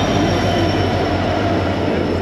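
Agartala to Silchar train pulling into the station, a loud, close, continuous rumble of rolling wheels and carriages with a steady roar filling the whole moment.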